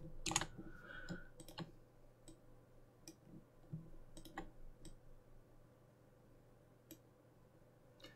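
A computer mouse clicks during photo editing in GIMP 2.10, giving a few faint, sharp, close clicks spread irregularly over a quiet room background.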